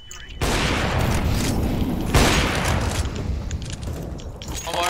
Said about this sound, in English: Incredible shot from Hards now